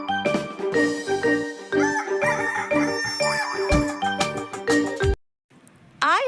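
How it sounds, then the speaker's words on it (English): Hen clucks and a rooster-like crow ring out over a bouncy children's song, then a brief pause before a short rising chirp at the end. "H for hen, H for hen."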